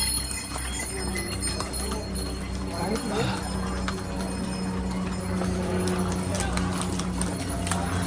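Horse hooves clip-clop steadily on a hard surface on the walking route up to Kedarnath, with people talking nearby and a faint bell now and then.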